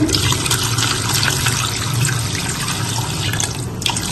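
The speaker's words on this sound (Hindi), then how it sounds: "अब हम इसके अंदर पानी डाल रहे हैं" Water pours steadily into a pressure cooker holding browned meat, a continuous splashing rush that lasts throughout with no voices.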